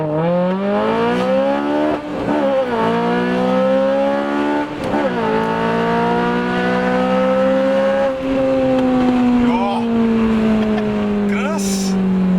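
A Honda Civic Type R pulls hard in first gear, its engine note climbing loud and close in repeated rising sweeps, each cut by a quick dip in revs before surging again.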